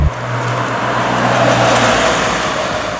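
Interior engine and road noise from a DeLorean, the stainless-steel sports car, driving on a public road, a steady low hum with broadband tire rumble throughout and no talking.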